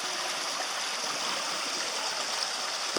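Water of Tunnel Creek flows in a steady, continuous rush at the tunnel's exit, close by and evenly loud, with no voices.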